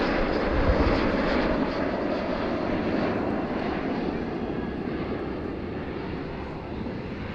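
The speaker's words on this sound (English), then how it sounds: "Both aircraft now in for a slow pass with gear down." A Fiat G91R jet aircraft makes a slow pass with gear down at an air show, a loud steady roar of engine noise that fades slowly as it passes.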